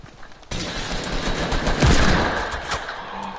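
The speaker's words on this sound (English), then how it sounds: "There's another guy shooting me with a pistol." Pistol gunfire in Fortnite: a burst of loud, dense shots and impacts starts abruptly and carries on, close and overlapping, for about three seconds.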